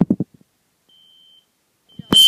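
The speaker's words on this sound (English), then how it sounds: "Now watch this. If an alarm comes in," Alarm beeping during an alarm system test, a thin tone starting faintly, then a loud, sharp beep bursting in at the end, after a person talks briefly at the start.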